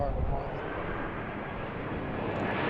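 A jet airliner roars down runway 15 right at BWI on its takeoff roll, a broad, steady engine rumble heard from a distance with a voice talking over it.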